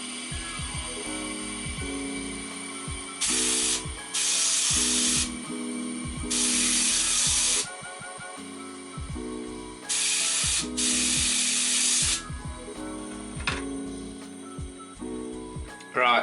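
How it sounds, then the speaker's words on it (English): CO2 gas bursts hiss in short spurts into a Fermentasaurus fermenter as oxygen is purged out, several separate blasts of a second or two each, loud and close over a steady low background hum. "I'm going to take off the spunding valve and put on the gas. I'm going to purge it a little bit."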